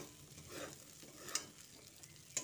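Fried soybeans being stirred into spiced potatoes in a pan, a soft, quiet scraping and faint sizzle with two brief sharp clicks from the spoon against the pan, no voices.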